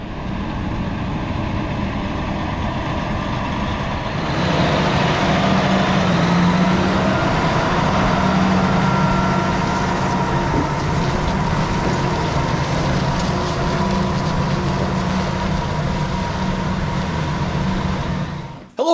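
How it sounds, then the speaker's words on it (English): A Versatile 520 tractor pulling a sunflower disc chisel through a field near Bad Axe, Michigan, a steady low engine drone that swells louder after a few seconds and holds without talk. "this 520 Versatile is pulling a sunflower disc chisel."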